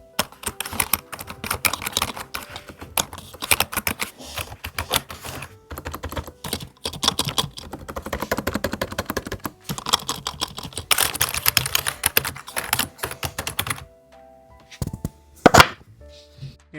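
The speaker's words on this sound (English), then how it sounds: "we're going to do a bit of a typing test on it so you can hear how the clicks sound" Rapid, uneven clacking keystrokes on a Logitech Wave Keys keyboard, close and dense for most of the stretch, then a pause and a few isolated taps near the end.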